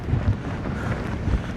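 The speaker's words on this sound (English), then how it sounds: "the wind is tunneled in and it's very," Strong wind from Storm Harry buffets the microphone on the Maltese coast at M'Scala, a steady low roar and rumble with a few heavier gusts, loud and continuous with no voices.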